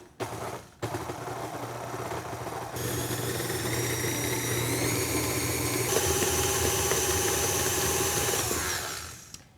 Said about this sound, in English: we're going to add our paddle attachment and we're going to mix these until they're creamy and smooth